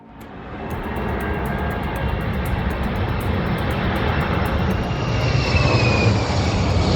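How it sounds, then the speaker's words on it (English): A loud, broad jet roar from two Royal Australian Air Force jets builds and holds steady, swelling slightly as they pass close overhead, with no voices. "two Royal Australian Air Force jets roar past"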